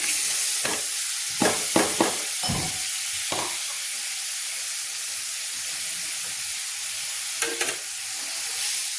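Cumin seeds crackle and sizzle in hot oil with a continuous hiss, broken by several sharp bursts of clatter and stirring early on and again near the end.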